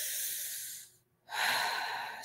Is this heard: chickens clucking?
no